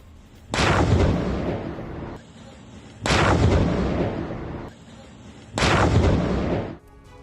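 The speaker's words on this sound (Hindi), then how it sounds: "ये देखिए कितना बड़ा धमाका हुआ।" Three heavy, booming blasts from a Russian drone strike in Ukraine, each sustained for about two seconds before fading, spaced a couple of seconds apart, loud and close.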